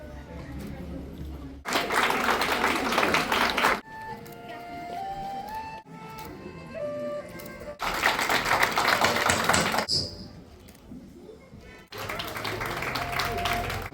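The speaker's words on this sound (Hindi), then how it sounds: "जोरदार तालियां।" School students give loud bursts of applause at a welcome event in Jammu, several separate rounds of dense clapping alternating with stretches of speech and music in between.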